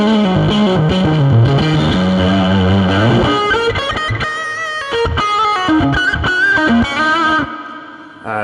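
Electric guitar played through a fuzz drive effect on a Fractal Axe FX, set for big Fender blues tones, dense distorted sustained notes and chords filling the clip loudly, no talking.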